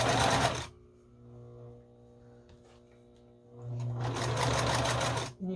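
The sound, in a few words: sewing machine stitching a scrappy string quilt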